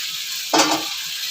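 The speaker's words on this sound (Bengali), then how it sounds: "এই ডাটা আলু দিয়েও আরও মিনিট 2-3 মশলাটার সাথে ভালো করে কষে নেব।" Drumsticks and potatoes being stir-fried in spice masala for a Bengali fish curry, giving a short, loud burst of sizzling frying as they hit the pan over a steady background hiss.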